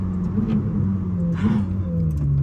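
Novitec-tuned Ferrari 458 Speciale engine droning steadily on the Autobahn, a loud continuous low rumble with slight rises in pitch, heard from inside the car with no talking.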